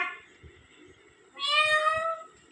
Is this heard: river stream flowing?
no